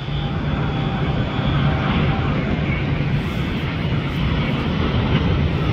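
A StarLux airliner, arriving from Tokyo Narita, touches down on runway 24 left at LAX, its engines a loud, steady broadband roar with a low hum that holds evenly throughout.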